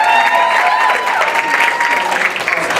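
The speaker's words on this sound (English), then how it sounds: "Clap it up for Amani." An audience at a school poetry event applauds a young poet, steady clapping at moderate loudness running through the whole stretch with a voice faintly under it.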